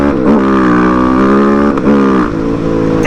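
A 2024 KTM 690 SMC R supermoto motorcycle engine revs hard and loud up close, its rising harmonic pitch holding steady before a brief shift dip and another climb, with no talking over it.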